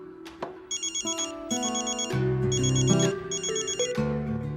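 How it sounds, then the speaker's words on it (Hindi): A phone ringtone plays a repeating electronic melody, loud and close, with bright chiming tones over a bouncing lower line. "मेरा फोन बज रहा है"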